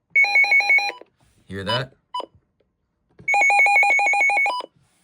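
A weather radio sounds a loud, steady two-tone alert siren for about a second. Someone speaks briefly, then a few short button beeps follow, and the siren blares again for over a second.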